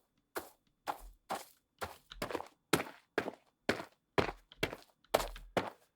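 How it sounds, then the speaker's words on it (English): Game footsteps in a Unity first-person scene, about a dozen evenly paced steps, soft thuds on earth changing to harder, sharper hits on stone steps, clear and isolated with no talking. "so you hear me take earth footsteps, but then as I walk across the steps, you hear the stone footsteps"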